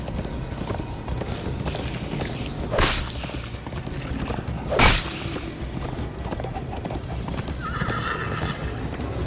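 A horse in the Minecraft: Story Mode video game gallops with continuous clip-clop hoofbeats, punctuated by two loud whinnies, with faint game music and effects underneath.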